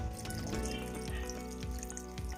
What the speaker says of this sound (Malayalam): ഇത് നല്ല വൃത്തിക്ക് ഞെവിടി പിഴിഞ്ഞ് നമ്മൾ ഇതിനകത്ത് ഒഴിക്കുക